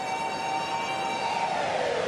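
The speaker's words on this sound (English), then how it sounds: "There is the siren." Half-time siren at a rugby league Nines match in Auckland, a single sustained wailing tone that bends upward near the end, heard clearly over faint crowd ambience.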